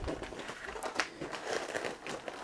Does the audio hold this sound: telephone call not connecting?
no